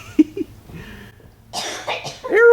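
A person coughs a couple of times, a raspy burst close to the mic, with voices around it.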